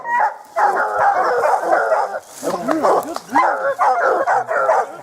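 Hunting dogs bay at a black bear treed during a Utah hunt, their loud, close, overlapping howls and yips coming in steady bursts with only short breaks.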